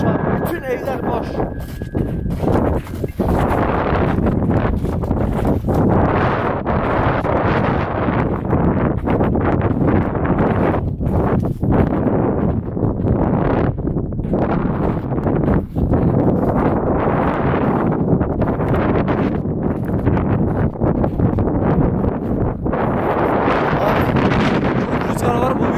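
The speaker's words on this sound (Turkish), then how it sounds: "Rüzgar var, bu büyük ihtimalle kamerada çok şey olacak." Strong wind buffets the microphone continuously in loud, rough gusts, with faint rustling underneath.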